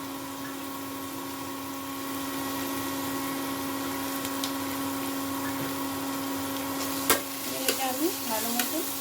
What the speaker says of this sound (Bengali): এটা আমি ভালো মতো কষিয়ে নেব।